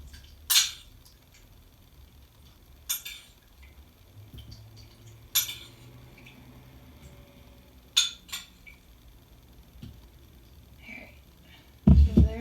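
Sidewalk chalk paint being stirred in a muffin tin: a handful of bright metallic clinks spaced a few seconds apart over a quiet background, ending in a louder, rattling clatter.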